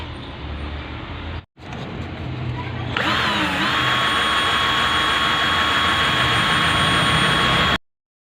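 A power drill spins an electric fan's shaft against 1000-grit sandpaper, a loud steady high whine starting after a brief pause and running unbroken for several seconds before cutting off.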